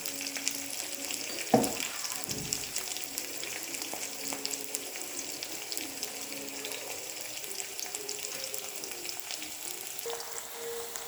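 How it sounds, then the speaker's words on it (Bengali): Onions frying in a wok make a continuous, moderate sizzle with a sharp clatter early on and light stirring noises throughout, close by with no voices. "পেঁয়াজটাকে ভেজে নিচ্ছি"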